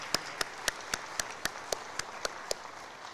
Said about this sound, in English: Please welcome all of our guests with a round of applause.